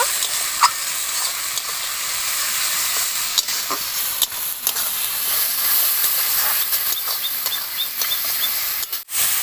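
Spice masala with chopped tomato and salt sautéing in a pan for an egg and potato biryani, a steady moderate sizzle with scattered scraping clicks of stirring throughout.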